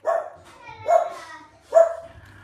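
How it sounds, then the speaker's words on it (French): Three separate dog barks, fairly loud and close, spaced about a second apart with a short tonal whine to each, alone with no talk over them. "les chiens n'aboyaient pas pour rien"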